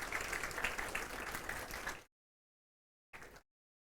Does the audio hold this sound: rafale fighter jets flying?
no